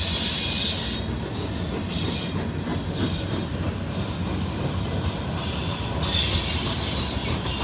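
A CSX freight train rolls by steadily in Kelly, Kentucky, wheels rumbling and clattering with a high metallic squeal running over the top, loud and close throughout.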